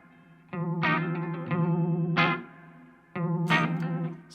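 Guitar played through a Sabbadius 1969 Uni-Vibe pedal, several strummed chords with a slower, throbbing chorus-like modulation, close and clear, with no talk.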